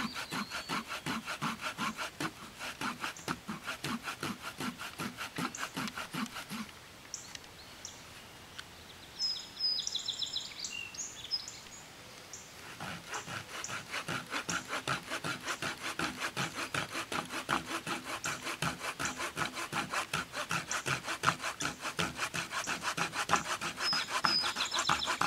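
A hand saw rip-cuts along the grain of wet wood in steady, rhythmic back-and-forth strokes, close and rasping, pausing partway through before resuming; faint birdsong sounds in the background.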